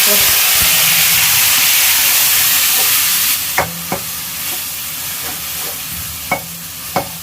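Ground onion paste sautés in a pan for chicken gravy with a loud steady hiss and sizzle that quiets partway through. A few distinct scraping clinks of the stirring spoon follow.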